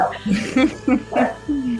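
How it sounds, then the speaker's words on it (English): A small female dog gives a run of short yips, barks and whimpers, several quick close calls in uneven rhythm, fairly loud against a quiet indoor room. "oh, that's my dog."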